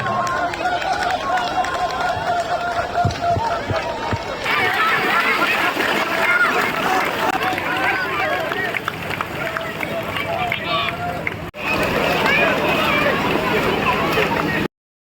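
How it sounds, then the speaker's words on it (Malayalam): A running race on a muddy paddy field at a rain festival in Vellur draws a crowd. Steady splashing, running and crowd noise carry on for the whole stretch under near-continuous loud commentary. "ആവേശകരമായ ഓട്ട മത്സരമാണ് നടന്നുകൊണ്ടിരിക്കുന്നത്."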